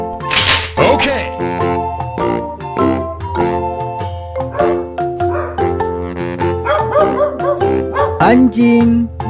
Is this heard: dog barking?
yes